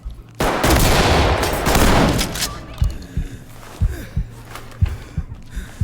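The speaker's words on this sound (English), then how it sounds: "I don't know if that shot hit him." Gunfire in the tactical shooter Ready or Not: a loud, dense burst of shots fills the first seconds, then scattered single sharp reports follow at irregular intervals, close and punchy.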